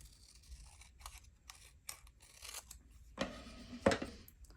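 Scissors snip through Tim Holtz collage paper strips, trimming their length and sides in a few quiet, scattered cuts, with a louder crisp snip near the end.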